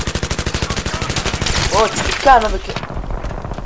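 Rapid automatic gunfire in Battlefield 3, a steady stream of loud shots that runs through most of the moment before tailing off, with brief game effects layered in partway through.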